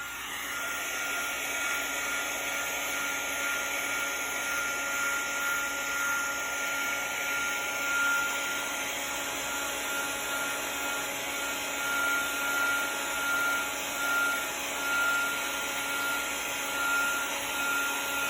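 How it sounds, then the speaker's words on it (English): A heat gun blows a constant, even whirring hiss while melting embossing powder in a crafting session, close and steady throughout with no speech. "Grab the heat gun, and this should emboss fairly quickly because it's a light layer."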